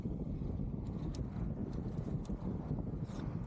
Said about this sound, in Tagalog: Galit na galit yung hangin.